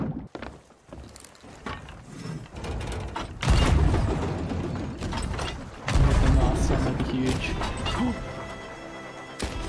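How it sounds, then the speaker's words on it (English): Ship cannons firing in the Sea of Thieves video game: heavy booming blasts with crashing impacts, loud and close, one near the middle and another a few seconds later, over continuous game noise and players talking. "I'm going to try to use the cannons."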